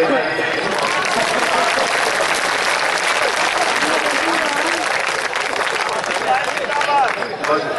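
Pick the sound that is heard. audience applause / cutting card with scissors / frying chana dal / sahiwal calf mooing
audience applause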